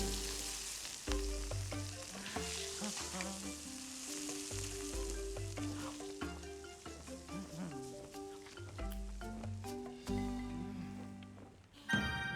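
Fish and garlic sizzling in a pan during a cooking scene in the video game Monster Hunter Wilds, a steady crackling fry under layered music tones.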